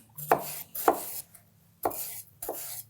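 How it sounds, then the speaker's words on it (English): A knife tip cuts around the rind of a watermelon to free the flesh, giving four short, crisp slicing strokes with pauses between them, close and fairly quiet with no talking. "I'm gonna follow that line all the way around with my knife tip pointing in."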